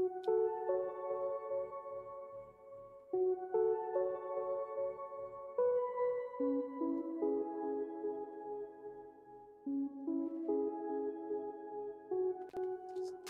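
A slow synth melody plays steady, sustained notes over a low repeating pulse, changing every few beats in a calm, spacious loop.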